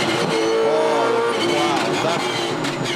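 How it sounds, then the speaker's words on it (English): Red Bull Holden Racing Team number 97 Supercar, leaking oil after a slide, limping back into the pit lane; a loud, close, uneven engine note under continuous commentary. "the Red Bull Holden Racing team number 97 is huffing and puffing its way back into the pit lane"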